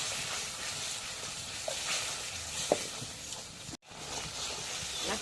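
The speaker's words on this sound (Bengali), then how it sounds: "এখন মরিচের গুঁড়ো দিয়ে দিই, হলুদের গুঁড়ো দিয়ে দিই, নাড়া দিই।" Steady hiss of chili and turmeric powder frying in a hot pan for a Bengali home dish, with faint stirring scrapes and a brief clack, continuous and close, broken by a short cut near the end.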